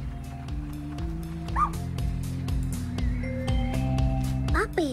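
Puppy in the video game Little Misfortune, yipping and giving short whimpering cries several times over a steady musical background, with a voice talking throughout.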